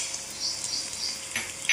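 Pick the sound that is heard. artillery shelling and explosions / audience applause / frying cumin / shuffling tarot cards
frying cumin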